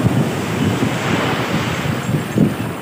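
Sea waves surge and crash on Marina Beach, a loud close roar of surf pulsing in repeated swells, mixed with heavy wind buffeting the microphone.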